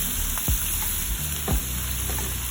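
Corned beef and cabbage fry loudly in a pan, with a steady close sizzle and two brief stirring scrapes.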